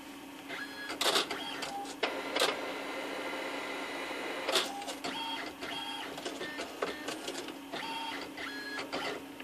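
An Alps MD5500 printer powers on with a steady mechanical whir, broken by several sharp clicks and clacks, close and moderately loud.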